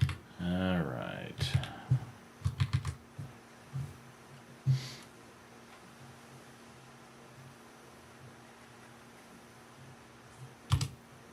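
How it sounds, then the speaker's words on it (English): Clicky keyboard typing with a typewriter-like ASMR feel, scattered bursts of sharp key clacks over a quiet fan hum, with someone speaking briefly at the start. "Get a little ASMR typewriter stuff going on."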